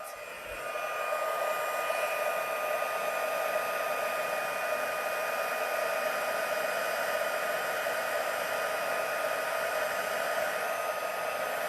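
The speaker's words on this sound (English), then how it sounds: "Get my heat gun warmed up." A heat gun runs steadily while warming up, giving a constant loud airy whoosh with a faint steady whine, starting within the first second and continuing unchanged with no talk.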